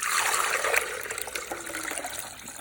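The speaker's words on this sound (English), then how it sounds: "we're gonna put the milk first." Milk is poured into a pot to make quinoa porridge, giving a moderate, steady liquid pour and trickle up close that tapers slightly toward the end. No one speaks.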